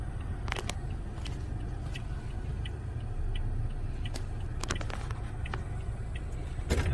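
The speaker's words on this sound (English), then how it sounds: "Yeah, cars are coming from both sides" Traffic passing through an intersection in Brampton during a G2 road test, heard from inside a waiting car as a steady low rumble with a few faint clicks.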